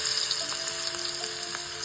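Garlic and asafoetida sizzling in hot oil for a tempering, a steady close crackle and hiss with no talking.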